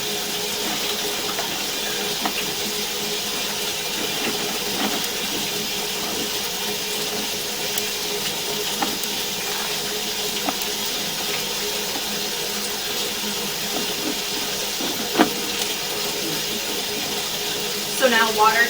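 A water jetter blasts through a greasy drain pipe, giving a steady, loud broadband hiss and rush that runs unbroken throughout, with a few brief knocks and a sharper clatter near the end.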